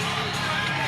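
A wrestling show crowd roars and cheers in a steady, dense wash of noise from an audience, loud and unbroken for a brief moment.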